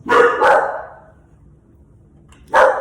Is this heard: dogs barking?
yes